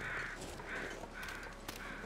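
Crows in The Long Dark caw four times in an evenly spaced series of harsh, moderately distant calls over a faint windy background, with no speech.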